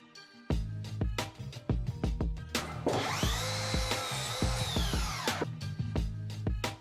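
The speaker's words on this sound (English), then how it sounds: "Cordless compound miter saw to cut this quick and easy." A cordless compound miter saw cuts baseboard trim, its motor spinning up and whining through the cut for about three seconds amid sharp knocks and handling clatter on either side.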